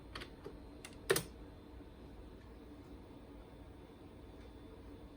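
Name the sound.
typing a command on a computer keyboard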